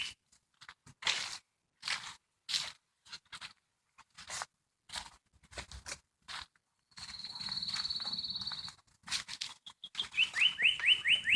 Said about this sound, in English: Let's see if we can see that bird that's singing.